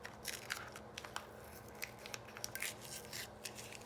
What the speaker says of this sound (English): we're just going to peel the tape from here